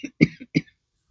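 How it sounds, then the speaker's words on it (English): A woman coughs a few times in short, quiet bursts, followed by silence, in a polytunnel garden setting. "the wife started coughing"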